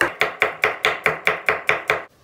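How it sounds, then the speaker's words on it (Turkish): Ten evenly spaced knife strikes on a cutting board as onions are chopped very finely for Turkish dried bean stew, a steady brisk rhythm, close and crisp, with no talk. "Soğanları çok ince doğrayacağız."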